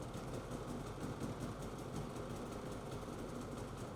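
A Polaris Matryx INDY snowmobile engine idles faintly and steadily with an even, low mechanical drone and no speech over it.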